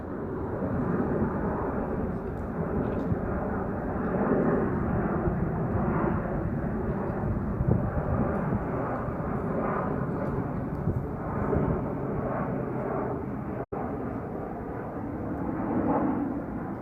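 A plane passes overhead during a stroll through Lakewood Cemetery, a steady broad engine roar that holds at an even level for many seconds, with outdoor ambience beneath.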